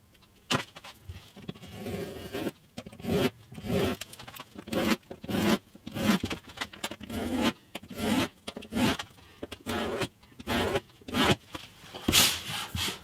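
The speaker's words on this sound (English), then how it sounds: "What I will do is score these lines with a knife, so I've got a really sharp edge to work to." Sharp knife scoring lines across a bass guitar neck or fingerboard during a full bass makeover, heard as a series of short, close, rasping scrapes in an irregular rhythm, each stroke separated by brief pauses, with no talking.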